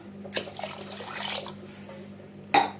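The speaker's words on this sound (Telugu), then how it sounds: "ఇప్పుడు మనం దీంట్లోకి వాటర్ యాడ్ చేసుకుందాం చక్కగా వాటర్ యాడ్ చేసేసుకుందాము" Water is poured into an egg and fenugreek leaf curry in a clay pot, making brief splashing, trickling bursts close up, with a sharper splash near the end and no talk.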